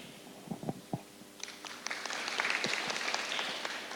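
A few scattered claps and knocks give way to a swelling round of audience applause at a school assembly in Oklahoma, building from sparse to a steady, moderately loud wash of clapping.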